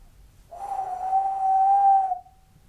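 Single person whistling one steady pitch, a clear, close tone held for about a second and a half in a quiet room, alone and without talk.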